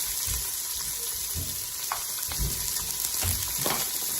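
Chopped yellow or white onion frying in hot oil in a pan, a constant close sizzle with a few dull stirring knocks and scrapes and no talk.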